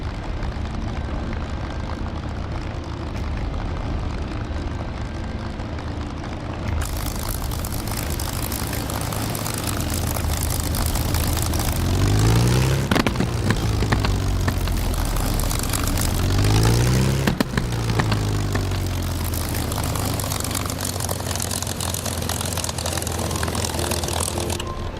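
A propeller aircraft engine drones steadily in a flight sim after a hot start, a loud continuous roar with the pitch rising and falling twice as the power changes.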